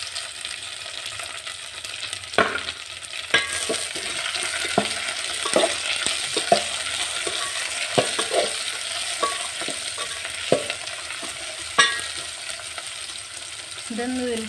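Onions, green pepper and tomatoes fry in a pan with a steady sizzle, while a utensil scrapes and taps against the pan in irregular strokes throughout; no one speaks.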